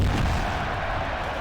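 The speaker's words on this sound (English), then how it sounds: "Elbow drop causing an explosion." A video-game explosion from a wrestler's elbow drop in Wrestling Empire, one heavy, sustained low boom that fills the whole short moment with deep rumble and no voices.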